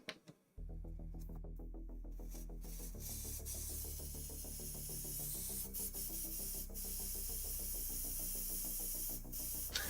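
An airbrush sprays Kaleido paint cleaner in a steady, continuous hiss with a low tonal hum beneath. The sound starts after a brief pause and runs unbroken and fairly close.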